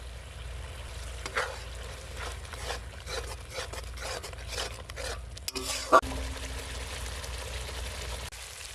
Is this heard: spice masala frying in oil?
yes